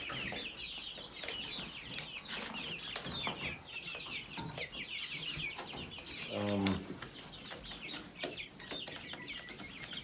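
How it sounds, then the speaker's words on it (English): Chickens clucking and squawking nearby, with some wing flapping and a brief low rumble midway. "My chickens are doing great."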